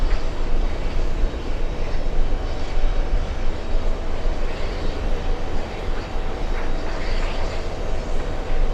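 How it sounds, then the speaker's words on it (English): An Air India airliner crosses runway 31 right at JFK airport on a hot day, heard as a continuous, fairly loud broadband engine rumble with slight swells and no talking. "Looks like we finally have Air India crossing"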